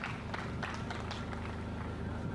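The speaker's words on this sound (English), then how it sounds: "Some more applause from the group" Scattered clapping from a group gathered at the Artemis II launch, quiet and continuous, with a few sharper claps early on and a constant low background rumble underneath.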